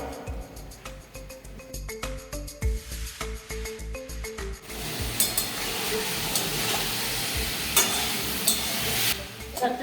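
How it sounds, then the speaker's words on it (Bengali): Vegetable chorchori simmering in a pot, with a spoon scraping and stirring in rhythmic strokes at first, then a steady close sizzle and bubbling hiss as the liquid cooks down. "এটা নরম হয়ে গেছে, আর কিছুক্ষণ আমি ফোটাবো।"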